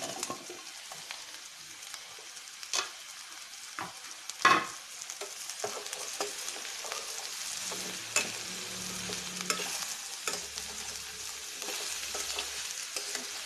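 Mushrooms fry in a pan while being stirred: a steady, close sizzle with scattered spoon scrapes and taps, one sharp clack near the middle and a soft low rumble later on.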